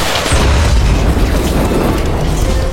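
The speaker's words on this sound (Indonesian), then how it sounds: "August berhasil menembakkan RPG ke arah tank pasukan musuh" An RPG round hits an enemy tank in a war film, producing a loud, deep explosion with a sustained rumbling boom that rolls on for a few seconds.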